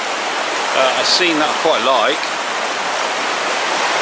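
Water flows steadily at the edge of a stream in Dartmoor woodland, a constant close rushing wash, with someone talking briefly over it.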